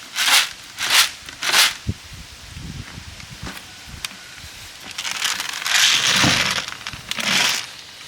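Three quick rattling bursts of loose corn kernels shaken inside a closed container, then scraping and rustling, followed by more shaking, close and fairly loud.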